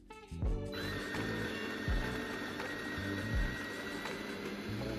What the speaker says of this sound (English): Take it out halfway to tidy the grounds and prevent spilling, then continue to finish grinding.